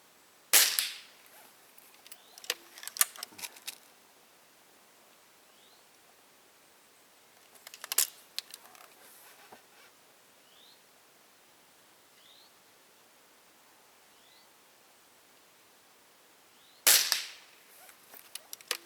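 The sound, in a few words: FWB Sport rifle shots with open sights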